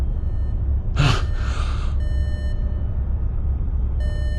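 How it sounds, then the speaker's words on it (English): Steady electronic beeps from the game Elite Dangerous sound faintly in a repeating pattern, interrupted briefly by a sharp gasp-like whoosh. "a faint beeping pierces the ethereal silence"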